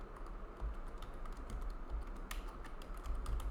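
Quiet, steady typing on a computer keyboard as notes are entered, with light rapid key clicks in an irregular patter and no voices.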